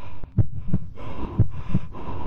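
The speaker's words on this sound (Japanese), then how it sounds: "心臓の音か、やっぱり。" Heartbeat sound effect in the horror video game Midnight Report: a steady, loud lub-dub thumping, four to five beats in quick rhythm over a low droning hum, with no talking.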